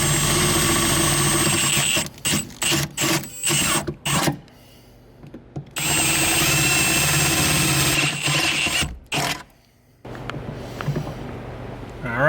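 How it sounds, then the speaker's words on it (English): A power drill bores holes into a metal sandwich plate for a C5 Corvette drift build, loud grinding bursts that start and stop in a choppy rhythm, with two longer runs and quiet pauses between. "Just need to mark and drill some holes in it."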